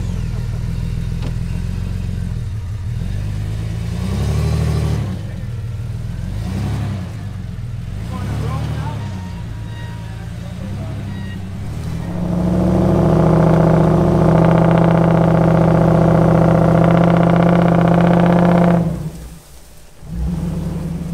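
A Ford truck engine revs hard and steadily while the truck is pulled out of flash floodwater, climbing to a sustained loud roar before dropping off near the end, with people talking over it.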